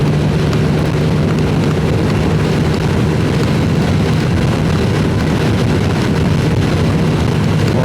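A 2022 TVS Apache RTR 160 2V BS6 motorcycle rides fast near its top speed of around 124 km/h, producing a loud, constant roar of wind buffeting and engine drone with no break.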